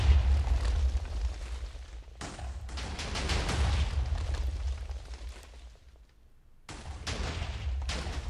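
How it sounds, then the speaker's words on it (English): Minecraft TNT fireworks from the Too Much TNT mod go off in a dense barrage of booming blasts and crackling bursts, loud and continuous, with a brief lull before another cluster of explosions. "TNT firework."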